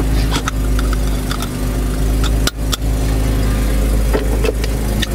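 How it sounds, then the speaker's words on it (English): Idling 2009 Porsche Cayman coupe flat-six engine, a steady low rumble with faint whirring and light mechanical ticks, plus a couple of sharp knocks partway through. "listen to that flat six. Sputtering and whirring and lovely little mechanical noises"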